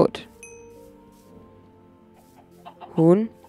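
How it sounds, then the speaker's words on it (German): In a Minecraft game, a brief chicken cluck with a rising pitch sounds near the end, after faint clicks and a quiet stretch. "Zwei Hühner sogar."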